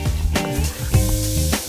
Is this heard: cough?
no